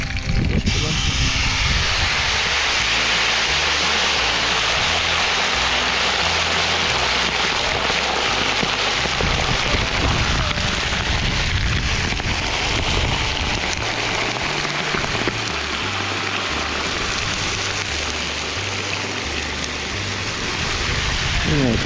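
Water is poured into a hot kazan of pork belly and potatoes over a campfire, setting off a loud, steady sizzling hiss that lasts throughout, with a voice speaking now and then.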